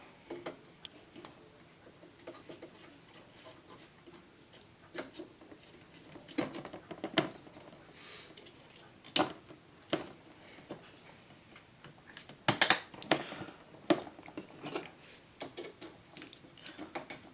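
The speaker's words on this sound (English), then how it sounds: "Until you hear the click." Plastic and metal parts of a gaming PC click and snap into place during assembly, a series of sharp close clicks spread irregularly over quiet handling noise, with a cluster of louder snaps near the end.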